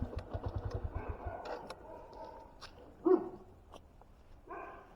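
A dog barks once, fairly close, on a street during a delivery rider's motorcycle trip, after a stretch of rhythmic engine putter and traffic noise.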